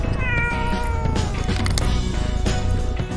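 A cat meows loudly and repeatedly at close range, drawn-out wavering cries that continue throughout with little pause.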